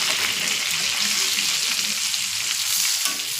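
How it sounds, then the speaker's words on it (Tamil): Fish sizzles loudly in a hot pan as curry leaves are dropped in and tossed, a dense, continuous crackle of frying oil with faint stirring underneath, close and steady. "இதுக்கு மேலே கருவேப்பிலையை போட்டு இப்போ ஒரு பிரட்டி விட்டுக்கலாம்"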